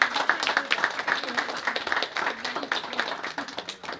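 A conference audience applauds in a dense, lively burst of many hands clapping, fairly close and steady for a few seconds, with faint voices mixed in.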